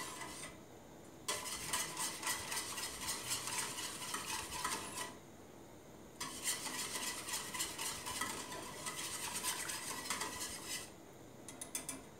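A diet quinoa pudding sweetened with molasses is stirred in a pot, giving rhythmic spoon scraping and clinking against the pot bottom in two long bursts separated by brief pauses, close and moderately quiet.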